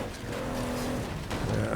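A car drives in State of Decay 2 with a steady engine drone and rough road rumble at an even level, swelling slightly toward the end.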